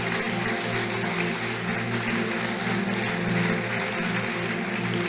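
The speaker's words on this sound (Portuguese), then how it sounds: "Quantos podem aplaudir o Senhor Jesus?" A church congregation applauds in praise of Jesus during a sermon, a steady, dense wash of clapping held for several seconds with no voices over it.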